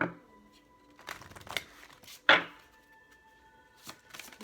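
Tarot cards being shuffled and handled close up, with several short bursts of riffling and a sharper slap partway through, in a quiet room.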